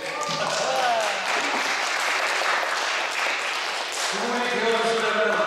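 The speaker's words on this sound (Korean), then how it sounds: "박수 한번 주세요." Listeners at a lecture in a Catholic church hall break into applause, a full, even clapping from the audience with a voice talking over its start and end.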